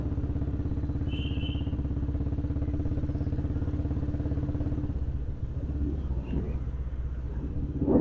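A motorcycle carrying a couple rides along a road, its engine giving a steady, loud, close rumble that eases slightly near the end with some clatter, with no talk.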